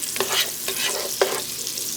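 Onions and sausage links sizzling in a pan for loaded baked beans, a steady close frying hiss broken by a few sharp clacks of a utensil stirring against the pan, with no voices.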